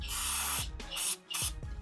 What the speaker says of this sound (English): I'm gonna go ahead and spray it just to clean it with the brake cleaner